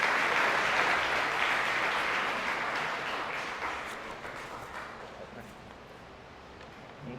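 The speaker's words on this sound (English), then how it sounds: "one more round of applause for our students receiving music recognition" A school moving-up ceremony audience claps for students receiving music recognition, a broad, dense round of applause that starts full and gradually thins and fades toward the end.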